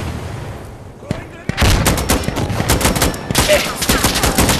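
Rapid bursts of automatic gunfire from the video game Insurgency: Sandstorm, loud and close, with dense volleys after a brief quieter lead-in, while players talk over the shooting.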